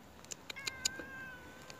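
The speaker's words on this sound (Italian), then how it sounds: "Intanto vi faccio vedere quel bel gattone" Domestic cat meowing faintly in a quiet room, a few short, soft mews in quick succession with a thin high whine trailing through.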